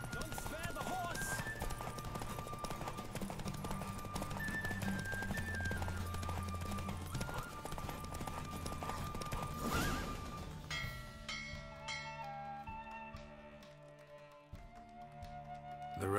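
Rhythmic hoofbeats of a galloping horse during a race in The Witcher 3 drum steadily beneath music and game sounds, then fade as the music shifts to a calmer passage.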